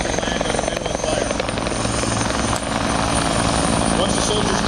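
A Canadian Forces military helicopter comes in to land with a loud, steady rotor thrum and engine roar throughout, up close and filling the scene.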